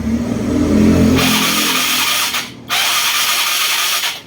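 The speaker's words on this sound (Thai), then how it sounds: "ผมนี่ดึงโชคไม่ต้องบิดคันเร่งนะครับ" Yamaha Fino scooter engine started on choke after sitting a long time, a starter whir followed by a loud, steady idle close by, which briefly drops out before resuming.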